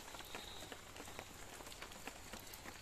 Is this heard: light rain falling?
yes